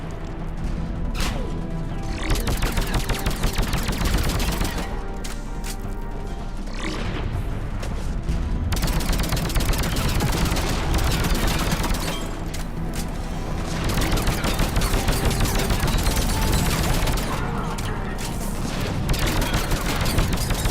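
Dense, loud gunfire fills a Mass Effect 3 battle, with rapid volleys and booming impacts running almost continuously, broken by only a few brief lulls.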